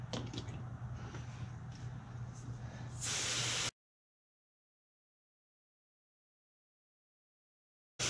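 A close, steady aerosol hiss sprays cleaner onto a clogged K&N air filter from a GMC truck, bursts louder at the end, then cuts to silence before a brief final spurt.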